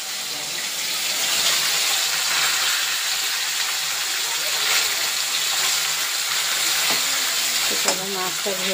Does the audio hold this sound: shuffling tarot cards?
no